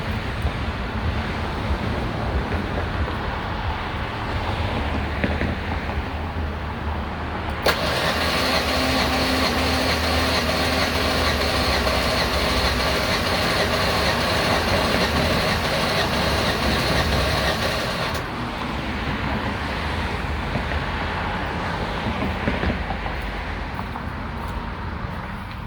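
Engine of a 1996 Ford Ranger 3.0L cranking over during a compression test, a steady loud broadband whir lasting about ten seconds with a rhythmic pulse underneath, starting and stopping abruptly against a windy outdoor background.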